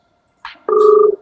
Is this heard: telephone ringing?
yes